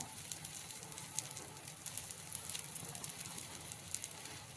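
Onion pressed onto a crisp uttapam sizzles on a hot pan, a steady close crackle with fine popping throughout and no voices.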